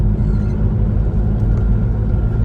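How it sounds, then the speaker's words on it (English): Low, steady road rumble of traffic around a bus being driven in London, a continuous near engine and tyre drone with no distinct events. "Traffic."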